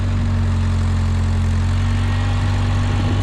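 A skid steer loader with a replacement engine runs at a steady idle in the snow, giving off a loud, continuous low diesel drone with no talk over it.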